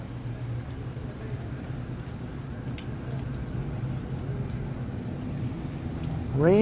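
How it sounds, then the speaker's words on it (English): Steady rain falling on a city laneway in Toronto, a constant hiss that swells slightly over time, with faint distant traffic rumble and a voice beginning to speak at the very end. "Rain, rain, go away."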